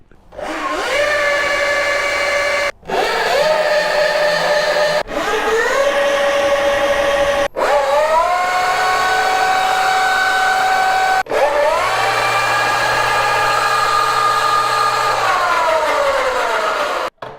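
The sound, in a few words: electric dirt bikes throttling up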